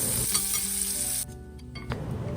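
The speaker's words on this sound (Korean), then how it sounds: "베이컨이 지글지글 잘 볶아지고 있네요." Bacon fries in a hot pan with a loud, steady crackling sizzle that suddenly softens partway through and continues more quietly.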